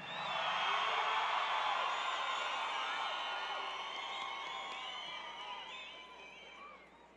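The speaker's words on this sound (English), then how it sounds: "When you guys were yelling, you weren't supposed to cheer and holler and whistle." A powwow crowd cheers, whoops and hollers with whistles mixed in, a dense sustained roar that swells early and slowly fades over several seconds.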